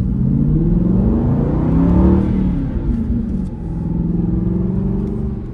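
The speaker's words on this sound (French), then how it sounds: "moment tant attendu, je vais conduire la V8 Vantage AMR" Aston Martin V8 Vantage AMR with a 4.7-litre V8 and manual gearbox, driving with a loud, close, low engine drone whose pitch rises under acceleration, dips briefly as if between gears, then climbs again, with no talking.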